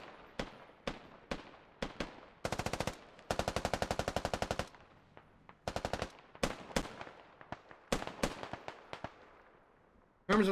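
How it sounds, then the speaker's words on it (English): Machine gun fire in a video game: scattered single shots and several rapid sustained bursts, crisp and fairly near, with brief pauses between volleys and faint talk underneath. "Dwarf Squad picks up flank security, firing at It's Crispy"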